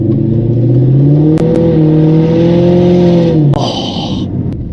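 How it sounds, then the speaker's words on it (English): A Range Rover L322 with the AJ133 5.0-litre supercharged V8 revs hard on a loose dirt road, the engine climbing in a loud, sustained rising roar, easing off, then a short burst of clatter and a final rev near the end. "supercharged V8, 510 horsepower, and it's just too much for this car"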